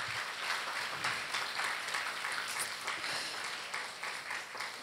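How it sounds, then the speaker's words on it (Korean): A congregation at a Korean church young adults' worship service applauds to welcome the worship team as they take the stage, a steady, dense wash of clapping that holds for several seconds without pause. "여러분 들어갈 때까지 큰 박수로 환영 부탁드릴게요"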